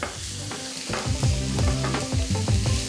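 Onion and garlic sizzle steadily in a pan at home, a loud continuous fry broken by several knocks and scrapes of stirring, with no voices.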